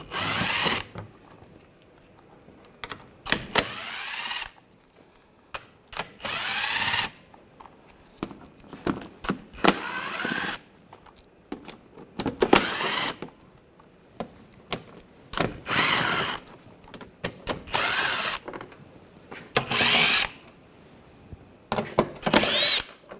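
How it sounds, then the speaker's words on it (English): Power tool driving out panel screws with an 8mm socket on a 2009-2010 BMW 535i xDrive, heard as repeated short whirring bursts of a few seconds each, separated by quiet pauses, close and fairly loud. "We're going to remove this panel. Use an 8mm socket,"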